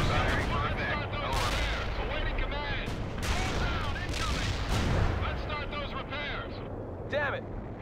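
Dense battlefield din from the real-time strategy game World in Conflict, with artillery fire, repeated gunshot bursts and explosions rumbling continuously, while radio voices talk over the fighting.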